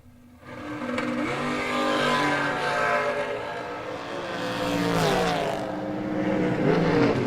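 A drag racing dragster roars down the track at a New Year's event, its loud engine note rising and sweeping in pitch as it accelerates, with a second engine swell later on, heard from a distance over steady crowd and track ambience.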